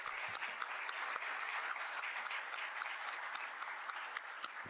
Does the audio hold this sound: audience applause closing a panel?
yes